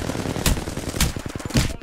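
Gunfire in the Apex Legends video game: three sharp shots about half a second apart, followed by a quicker burst of rapid automatic fire, moderately loud with no talk over it.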